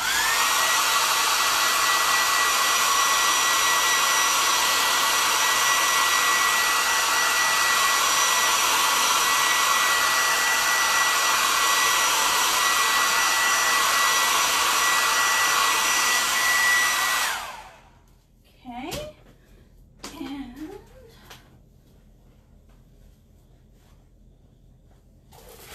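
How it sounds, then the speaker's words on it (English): A blow dryer runs in one loud, steady whir while drying a chalk design on a T-shirt, then cuts off abruptly and gives way to a few faint handling clicks and near quiet. "Do the blow dryer just for another couple seconds,"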